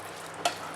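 Chicken coated in Chettinad masala powder fries quietly in a pan with a soft continuous sizzle, broken once by a single sharp spoon scrape midway.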